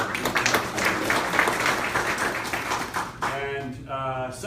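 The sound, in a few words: audience applause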